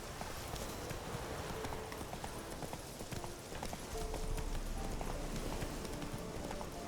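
A horse's hooves clip-clop steadily at a quick, even gait in The Witcher 3 video game while the horse moves through dense woods, with a continuous game backdrop behind them.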